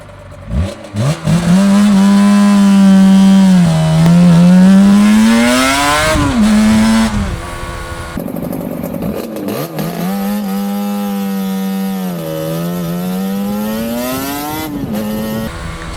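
Suzuki RG400 two-stroke motorcycle with a wet clutch, its engine revving loud and close in long buzzy sweeps that rise and fall, dropping back briefly before climbing again.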